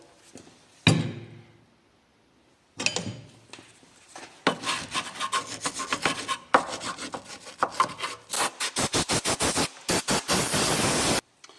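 Brake caliper screw heads on a 2004 Saab 9-3 1.8t being scrubbed clean of dirt, bursts of rough rasping brushing that grow faster and more rhythmic, close up and with no talk.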